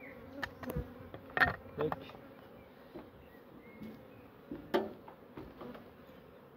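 Honeybees buzz around an open, strong hive while it is being split to make a swarm. There is a steady close hum with a few sharp knocks, and a voice speaks one brief word.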